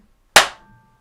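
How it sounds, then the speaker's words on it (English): A single sharp hand clap, close and loud, ringing briefly before fading into silence. "you clap for both of us actually"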